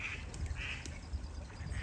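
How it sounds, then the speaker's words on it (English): Several ducks quack in short bursts against steady low background rumble, fairly faint and a little distant, near canal boat moorings. "Oh, upset the ducks."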